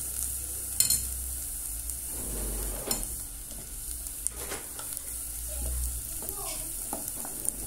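Ground beef sizzling in a frying pan while being stirred, a steady close hiss with scraping and clinks of the utensil.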